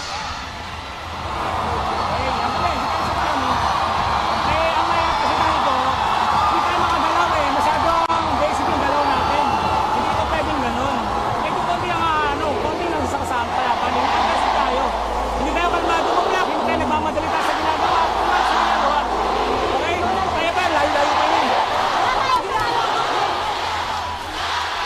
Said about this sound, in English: Crowd has gotten into it now, both sides.